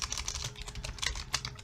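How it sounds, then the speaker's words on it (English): Rapid keystrokes clatter on a computer keyboard, a close, uneven run of light clicks and taps. "Sorry, I'm typing very well today."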